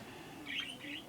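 Pet budgies give a couple of brief, high chirps indoors, faint against a steady low background hum.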